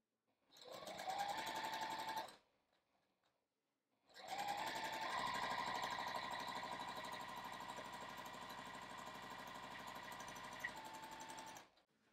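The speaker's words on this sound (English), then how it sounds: "so keep sewing them just like that" A sewing machine chain-pieces quilt patches together, running in a loud, close, rapid mechanical whir for a couple of seconds, pausing briefly, then stitching again steadily for about seven seconds before stopping.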